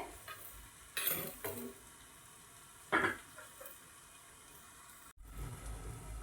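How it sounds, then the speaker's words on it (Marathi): Bitter gourd (karela) steaming and cooking in a pan with a low steady sizzle, broken by a few scrapes and stirs of a utensil against the pan, with a brief dip toward the end. "ही कारली वाफून घेऊ म्हणजे जी थोडीशी राहिली आहेत ती छान अशी शिजून तयार होईल अगदी एक मिनिटभर शिजवायची आहे"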